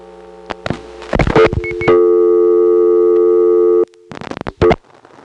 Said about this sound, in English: Let's find out from a rotary dial phone. I'll dial 461 rather slowly here.